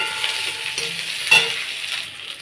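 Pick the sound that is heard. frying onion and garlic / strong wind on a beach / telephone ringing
frying onion and garlic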